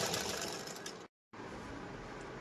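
A sewing machine stitches along the edge of a katori blouse, running steadily and close for about a second, stopping abruptly for a moment, then resuming at an even pace.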